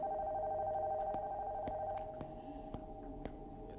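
A telephone ringing in a horror video game, a steady electronic tone with sharp periodic clicks, moderately loud and alone without talk.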